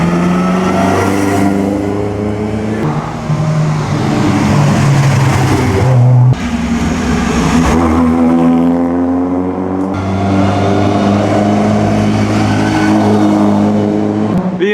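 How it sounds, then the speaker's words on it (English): A 1936 Alfa Romeo vintage race car at the Mille Miglia, its engine a loud, close, throaty roar rising and falling through revs and gear changes, with a brief abrupt drop midway. "'36 Alfa Romeo here, right here."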